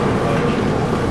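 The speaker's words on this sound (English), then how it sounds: "This train is departing." A train departing in Atlanta, a steady, loud rumble throughout.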